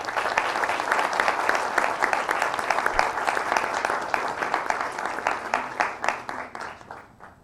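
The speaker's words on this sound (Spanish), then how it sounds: "recibamos a don Mario Marcel con un fuerte aplauso." An audience at a public finance event bursts into applause to welcome Mario Marcel: dense, sustained clapping from a crowd that holds steady, then gradually thins out toward the end.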